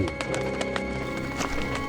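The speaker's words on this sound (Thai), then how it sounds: "เสียงฝีเท้าปริศนาที่กำลังวิ่งใกล้เข้ามา" Quick running footsteps thud in a steady, rapid rhythm, drawing closer over a faint background hum.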